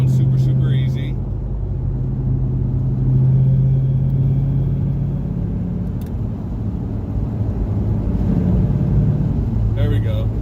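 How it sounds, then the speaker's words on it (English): Exhaust of a 1999 Camaro convertible while driving, a low continuous engine rumble heard from inside the car, rising and falling slightly, with brief bits of background noise. "I heard the exhaust change there."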